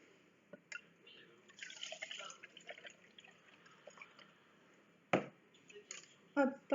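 Milk is poured into a mixing bowl of banana bread batter, making a soft close liquid trickle with a few drips and clinks near the end, and a voice speaks quietly underneath.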